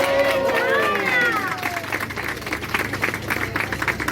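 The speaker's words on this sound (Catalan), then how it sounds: "un fort aplaudiment" Audience applause for children after a sing-along in La Seu d'Urgell, a dense wash of clapping with cheering voices and a child's high sung note at the start.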